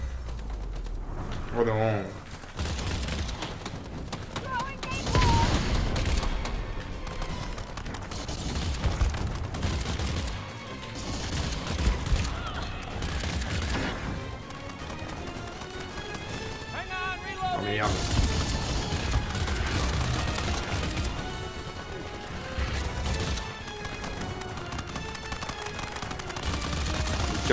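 Gunfire crackles throughout a shooter game session in Earthfall as AI teammates shoot, with dense, loud volleys and crashes running continuously while a person talks over the action.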